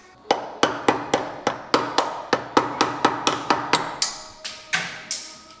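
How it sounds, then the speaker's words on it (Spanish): Hammer strikes on a car shock absorber part during a shock swap on a 1966 Chevrolet Caprice: about seventeen sharp, close metallic taps in a quick, fairly even rhythm, heard alone. "cada vez que voy a trabajar cojo el martillo para hacer"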